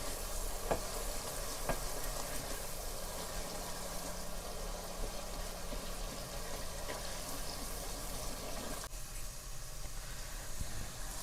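Crushed ground chili sizzles in spice-laden oil in a clay pot over a village cooking fire. The frying hiss is steady and close, with a couple of faint clicks of stirring.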